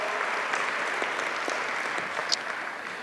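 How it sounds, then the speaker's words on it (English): An audience claps for first responders at a community gathering, a steady mid-level wash of applause with scattered sharper claps and no one speaking. "let's give a round of applause to our first responders"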